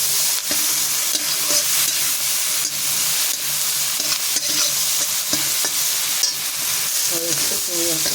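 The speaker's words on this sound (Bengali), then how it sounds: "চিংড়ি মাছটা ভাজার সময়" Shrimp fry in hot oil with turmeric in a kadai, giving a steady loud sizzle broken by repeated scraping and clinking strokes of a stirring spatula.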